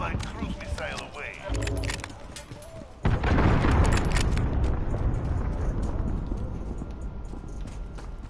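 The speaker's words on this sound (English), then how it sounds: "Allied cruise missile away." A cruise missile in a video game strikes with a sudden loud explosion about three seconds in, after scattered gunfire and game noise. A long rumbling roar follows and slowly fades under continuing background sounds.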